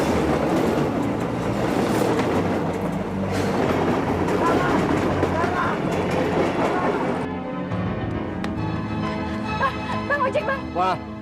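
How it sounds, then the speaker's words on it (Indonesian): A train rumbles past with rattling, clattering wagons and a ringing bell, loud and close, while people speak over it. "Kereta!"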